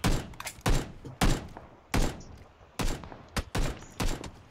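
Gunfire in PUBG, a loud, close series of about a dozen sharp shots in irregular bursts, some in quick pairs, with short gaps between them and no talking.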